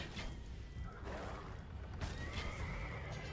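Light cavalry horses neighing in a strategy video game, several whinnies rising over a busy battle backdrop with hoof clatter and mechanical noises, fairly close and clear.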